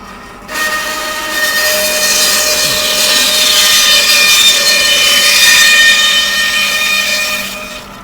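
A bandsaw cuts a wood blank to flatten a face for bowl turning: a high, tonal whine rises as the blade enters, holds steadily for several seconds nearby, then fades as the cut ends.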